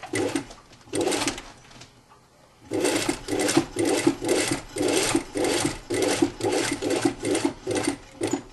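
A sewing machine runs bursts of stitching along the raised seam around a shirt-tunic collar, a steady whirring motor broken by a short pause and then repeated close, loud runs.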